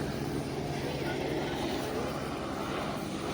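A rescue helicopter drones overhead in the snow at Jungfraujoch, its engine and rotor noise a steady broadband roar throughout, with people talking nearby.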